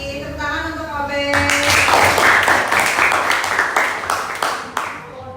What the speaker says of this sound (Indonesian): Tepuk tangan untuk Obed.